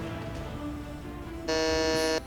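A quiz game buzzer sounds with a loud, steady, harsh electronic tone for about three-quarters of a second, cutting in over a low background hum and then stopping abruptly.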